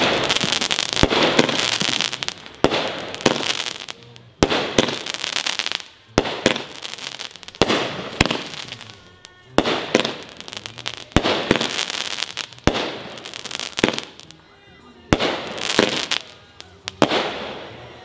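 New Year's fireworks and firecrackers bursting one after another in a home display in Louisiana, sharp loud bangs and crackling volleys with brief gaps between them.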